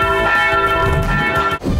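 A bright bell rings in the German-language PAW Patrol cartoon, a sustained clang with rich ringing overtones lasting over a second before cutting off, loud and close.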